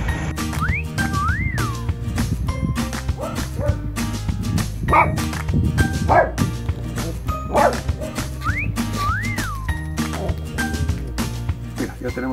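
A dog yips and whimpers a few times over busy background music, the animal sounds short and scattered.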